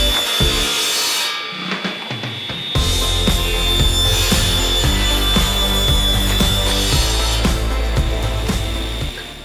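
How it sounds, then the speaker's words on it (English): A power saw rough cuts a wooden yoke for an arcade marquee lightbox frame, loud and continuous with a high whine and rhythmic pulsing passes, briefly dipping near the start before resuming steadily. "what I want to do next is start cutting out the frame, and for that I'm just going to start by rough cutting the yoke"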